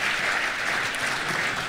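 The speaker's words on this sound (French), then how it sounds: "applaudissements pour Cédric." Dense audience applause from a studio crowd, a brief, steady burst of many hands clapping together at a loud, even level.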